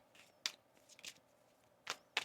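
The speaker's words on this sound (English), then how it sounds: "One more shuffle here." Tarot cards are shuffled in a few short, soft riffling bursts spaced across a quiet background, with no voices.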